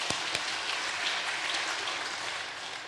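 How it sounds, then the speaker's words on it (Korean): Sustained applause from a church congregation at a Sunday evening worship service, a dense, steady wash of many hands clapping for the full stretch with a couple of sharper claps near the start, no talking over it. "우리 박수 한번 쳐줍시다."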